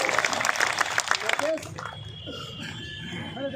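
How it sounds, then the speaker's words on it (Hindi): An audience at a Rajasthan ministerial employees' rally at Shahid Smarak in Jaipur breaks into brief, busy applause. The clapping fades after about a second and a half, leaving murmuring voices and background noise. "आप इनके लिए तालियां हो जाओ"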